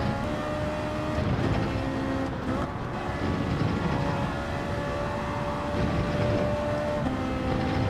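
A race car engine in Gran Turismo 7 drones at high revs with a continuous, slightly shifting tone. It is loud and steady throughout, with no talking.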